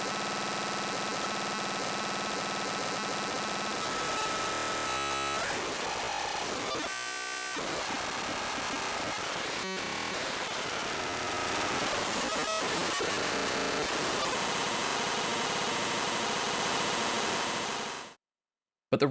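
Dense, harsh electronic noise from a Benjolin synthesizer roars continuously, not full-spectrum white noise, shifting texture with brief dropouts and sputters, then cuts off abruptly near the end.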